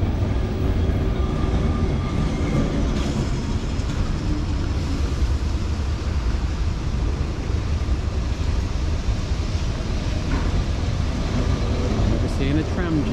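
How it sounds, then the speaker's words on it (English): Continuous rumbling street noise in Lisbon's Alfama district with heavy low-end rolling as trams grind past nearby in a tram jam, steady and loud throughout with faint squeals near the end. "Got a traffic jam here due to lots of trams passing."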